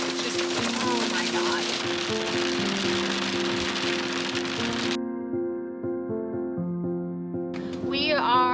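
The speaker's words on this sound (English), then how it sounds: "it's hailing" Hail clatters down in a thunderstorm in the Rocky Mountains, a dense, continuous patter of impacts heard under loud talking and other sounds.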